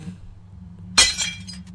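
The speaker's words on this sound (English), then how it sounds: "That's a shatter." Glass shatters suddenly in a video game, one sharp crash followed by a brief scatter of tinkling fragments over a low, steady background hum.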